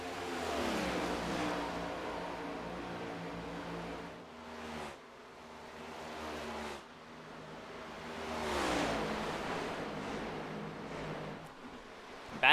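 Engines of NASCAR stock cars in the iRacing video game rolling down the front stretch at Kentucky, rising and falling revs as cars pass in waves, loud and continuous with no voices.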